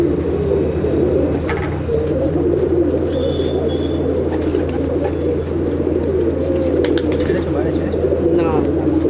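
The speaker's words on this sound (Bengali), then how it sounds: "এ একটা পায়রা দেখুন" Andhra Triplar pigeons in a large loft in Akra, West Bengal coo in low, repeated throaty calls, close and steady, with people talking over them.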